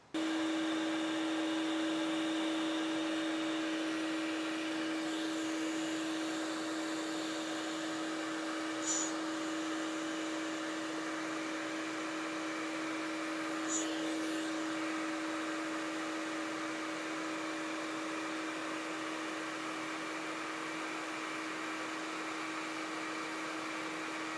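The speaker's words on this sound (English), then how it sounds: "The suction was significantly better than what it was with just one vacuum." Two dust collection vacuums run together in a steady, unbroken drone that stays loud and constant for the whole stretch, with only a couple of faint brief clicks and no speech.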